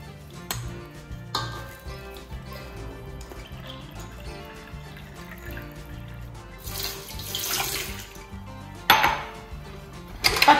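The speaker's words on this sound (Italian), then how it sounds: "Lo metto nell'impastatrice con 200 g di acqua a temperatura ambiente" Room-temperature water, 200 g, poured into a stand mixer bowl for sourdough bread. Soft clinks and handling noises lead to a louder splashing pour near the end, close and with no voices.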